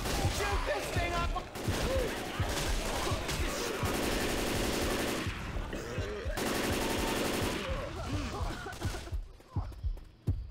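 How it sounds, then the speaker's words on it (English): Rapid automatic gunfire in Left 4 Dead 2 as players shoot at a creature, sustained bursts of loud shots that pause briefly and resume, with a voice speaking over the shooting. "Shoot this thing up!"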